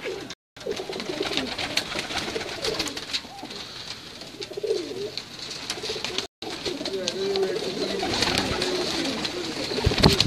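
Pigeons coo repeatedly from a rooftop loft, a steady chorus of soft throaty calls close by, with brief gaps and some faint background movement.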